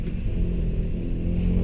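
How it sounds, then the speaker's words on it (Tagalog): A car engine with a deep, rough drone like a jeepney's rumbles steadily from inside the cabin, a continuous low growl with no talk over it. "parang tunog jeep tuloy."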